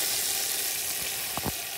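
Tempering sizzling in a pan as vermicelli goes into melted sugar for kheer, a steady close frying hiss with a couple of brief louder crackles near the end; no talking.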